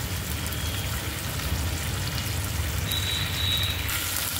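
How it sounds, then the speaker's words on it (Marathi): Cauliflower pieces coated in turmeric and cornflour fry in a pan with a loud, steady, close sizzle that crackles continuously with no pauses. "फ्लावर हळद आणि कॉर्नफ्लॉवर लावलेले फ्लावर आपण भाजून घेऊया"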